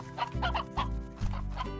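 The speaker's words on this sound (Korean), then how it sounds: "늙은 암탉." Hens in the farming video game Slime Rancher cluck repeatedly at close range, giving steady, throaty bursts in a loose rhythm.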